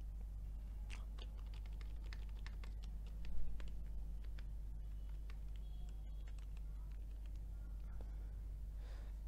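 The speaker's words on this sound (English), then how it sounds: "But if I type here" Computer keyboard typing with scattered light key clicks, fairly faint and steady under a constant low hum, with one brief slightly louder moment partway through.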